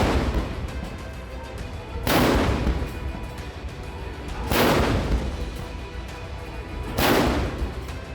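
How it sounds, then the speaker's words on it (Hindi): Three booming shots from a made-in-India ATAGS howitzer in a 21-gun salute at the Red Fort fire at slow, even intervals, each a loud blast rolling off into a long echoing rumble outdoors. "लाल किले पर स्वदेशी तोप की भयंकर गर्जना"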